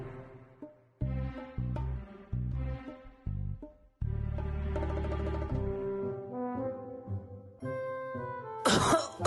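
A cartoon character coughs and clears the throat in a run of rough, voiced bursts, loud and close, then a sharp sneeze-like burst at the end.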